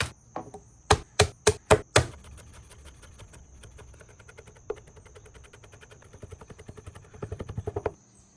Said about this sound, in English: Garlic, I'm looking at about 2 cloves per rib, finely minced.